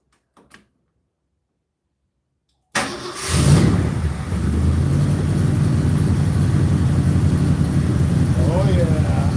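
After a brief click and silence, the engine of a 1972 Highboy truck cranks and catches with a loud roar, then settles into a steady, rumbling idle, with people speaking over it.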